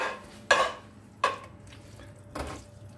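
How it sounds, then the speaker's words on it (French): Stirring persillade of parsley and garlic into artichokes barigoule in a pot toward the end of cooking: three soft scraping, clinking strokes spaced apart, close and fairly quiet, with no talk. "On mélange le tout."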